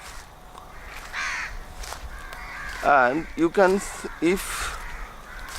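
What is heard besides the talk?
crows cawing in the jungle at night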